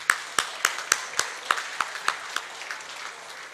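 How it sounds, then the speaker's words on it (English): An audience at the St. Lucia Manufacturers Association Quality Awards claps for the event's sponsors in a sparse, evenly spaced run of about a dozen distinct claps that thin out and fade, fairly quiet with no talking. "You have to clap for that."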